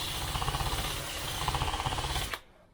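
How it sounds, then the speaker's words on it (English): A power drill chatters against metal held in a vise, drilling a hole in a Land Rover Series IIa front suspension part, in a fast, juddering rhythm, loud and close, then cuts out abruptly near the end. "mount it in a vise and drill a hole in it"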